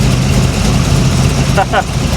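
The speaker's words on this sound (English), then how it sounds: "You're looking at that engine shaking and you're like, man, that can't be right." A 500hp 1987 Chevy Monte Carlo SS engine running with the hood open, a loud continuous low rumble with a rough, shaking idle, with a couple of brief higher squeaks near the end.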